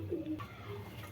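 Giribaj pigeons kept as a pair, giving a short low cooing call near at hand, one soft throaty phrase over quiet background.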